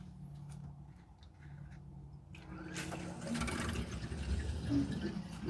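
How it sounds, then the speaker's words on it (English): Air sputters and hisses out of a Suburban IW60RL on-demand water heater system as the water is turned on, starting quiet with a low hum, then turning into a louder, rushing gurgle of air and water. "That sound you hear is all the air escaping out of the system."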